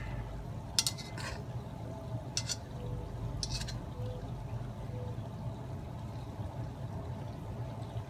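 Johnsonville beer bratwursts stirred into a Dutch oven outdoors, with a few sharp metallic clanks and scrapes of a utensil against cast iron over a low background rumble, sparse and fairly quiet.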